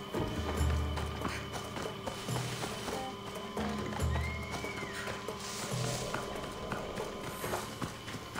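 A horse in the video game Assassin's Creed Odyssey gallops with a rhythmic clip-clop of hooves and gives a whinny partway through, all fairly quiet against a game soundscape.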